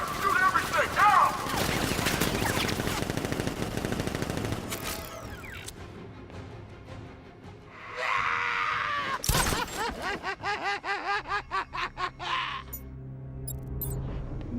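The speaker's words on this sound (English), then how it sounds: "Open fire! Shoot everything!" Heavy automatic gunfire from a militia ambush in Batman: Arkham Knight rattles loudly in sustained bursts, broken by a sharp blast and rapid repeating shots, with shouted voices and groans mixed in.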